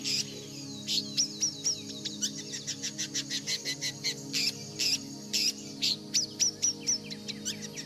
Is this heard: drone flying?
no